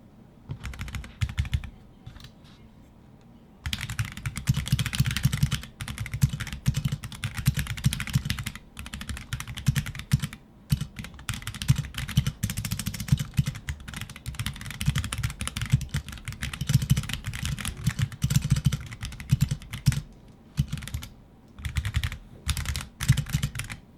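Steady bursts of close-up typing on a Bakeneko65 mechanical keyboard with unlubed switches, rapid clacky keystrokes running in uneven runs with brief pauses between them, no talking.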